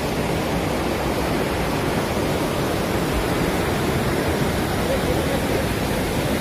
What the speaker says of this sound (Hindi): इधर से भी गिर रहा है पानी।